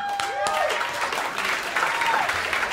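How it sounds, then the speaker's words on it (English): Thin, scattered clapping from a small crowd, a few hands clapping unevenly for a couple of seconds. "thank you for that smattering of applause"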